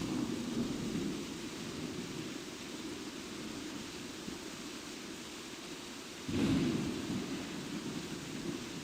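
Steady hissing thunderstorm rain from The Sims 4, with a soft rumble of thunder swelling briefly near the end, a continuous wash with no talking.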